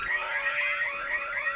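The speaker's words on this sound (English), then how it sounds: "I should hit the spoiler alarm" A short electronic alarm sound effect plays as a spoiler warning, a steady high-pitched siren tone with a warbling pattern lasting under two seconds, loud and alone with no voices.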